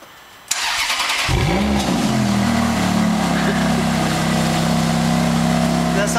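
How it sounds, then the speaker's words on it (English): A Ferrari F430 engine cranks and fires up loudly, then settles into a deep, steady idle with a rising rev, heard close and continuous after the start. "Let's hear the engine."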